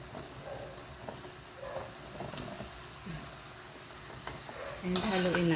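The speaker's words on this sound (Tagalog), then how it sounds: "haluin natin para makapantay" Vegetables stirred in a sizzling pan, with a steady fry hiss and soft utensil scrapes, close by; a sharper burst of sizzle and clatter near the end.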